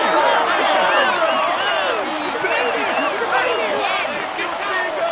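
Large crowd at the Tour de France cheering, whooping and applauding continuously during the polka dot jersey ceremony, a dense, loud roar of claps and shouts throughout.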